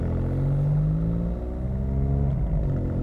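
A BMW M4's turbo engine with an Akrapovic exhaust rumbles and revs, a deep harmonic drone that rises, dips near the middle and climbs again, loud and close for about three seconds with no talk.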